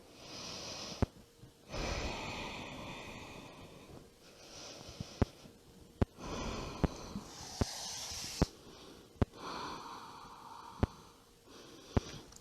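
Slow, audible breaths drawn in and pushed out through the nose during a yoga stretch, close and fairly soft, with a few sharp clicks between them and no talking.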